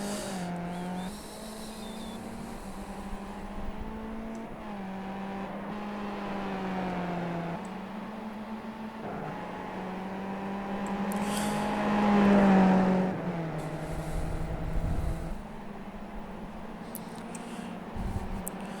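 A Skip Barber race car in the iRacing sim runs through the esses at VIR North, a steady engine drone rising and falling with gear changes, with a brief tire squeal near the middle.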